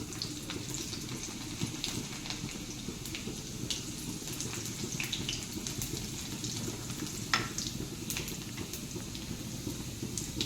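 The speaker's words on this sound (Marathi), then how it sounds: "थोडीशी मोहरी घालूया थोडे जिरे बारीक केलेला लसूण" Mustard seeds, cumin and minced garlic sizzling in hot oil for a village-style rassa patvadi, a steady close frying hiss with scattered small pops and crackles throughout and no talk.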